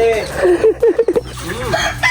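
A rooster crows loudly and close, with chickens clucking around it.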